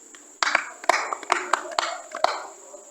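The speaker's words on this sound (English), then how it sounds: "Clap for yourselves." Scattered audience applause: a handful of sharp claps in bursts over about two and a half seconds, over a steady high whine and faint murmuring voices.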